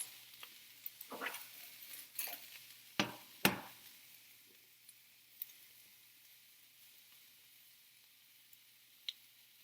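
Squash and tomato sauté in a metal pan while a metal spoon stirs. A few scraping strokes and two sharp clanks come early, then scattered soft ticks over a faint sizzle, quiet and close, with no talking.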